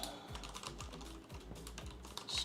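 Quick keystrokes rattle on a computer keyboard during a coding session, a close, steady patter of soft clicks with no talking.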